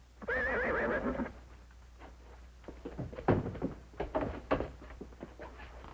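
A horse kept inside an office lets out one loud, wavering whinny close by, followed by scattered hoof clomps and knocking thuds.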